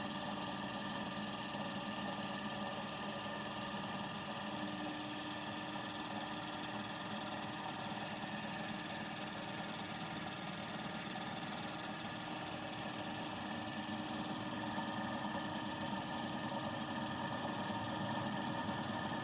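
A homemade dual rotor flat disc motor generator with hall effect triggering runs steadily, giving a constant mechanical whir and hum with fine rhythmic ticking, close by and unchanging throughout, with no voices.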